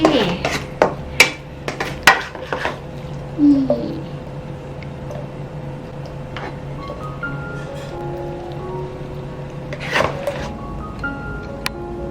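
Holy basil tossed in a pan until it wilts: spatula clanks and scrapes against the pan over a steady sizzle, with a few sharp metallic knocks early and near the end.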